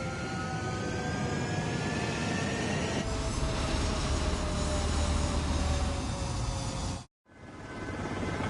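Jet aircraft in Ace Combat spooling up and rolling down a runway for takeoff, a steady loud engine roar with rising whine tones that swells midway, then cuts out briefly before resuming.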